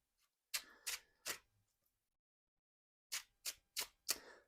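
Tarot cards being shuffled, heard as two quick groups of crisp, close riffling bursts: three near the start and four after a short silence.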